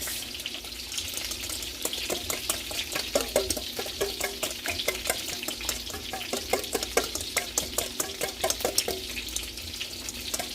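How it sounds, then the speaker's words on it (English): Hashbrown and meatball casserole ingredients are stirred in a bowl, a quick, regular run of wet scraping strokes over a steady hiss, close and moderately loud. "Now I'm going to give that a good mix."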